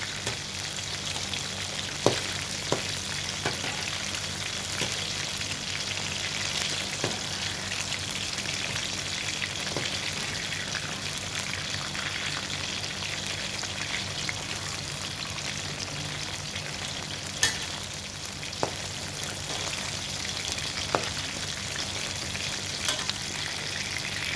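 Pangasius fish fries in hot oil over medium-high heat, giving a dense, continuous sizzle with scattered sharp pops and crackles for the whole stretch.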